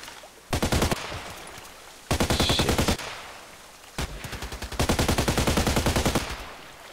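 Automatic gunfire in the online shooter Contract Wars, four separate rapid bursts of several seconds each with short quiet gaps between them, crisp and close.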